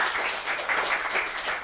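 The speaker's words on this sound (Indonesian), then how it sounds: "Sekali lagi tepuk tangan untuk Sirsan 1 Budiono." An audience claps for a sergeant at a school event in Surakarta, producing brief, steady, even applause throughout.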